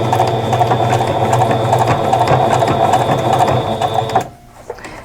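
Domestic sewing machine running steadily for about four seconds while stitching appliqué onto a quilt block, a close, loud, even mechanical whir with rapid needle clatter, then stopping abruptly, leaving a quiet room with a faint click.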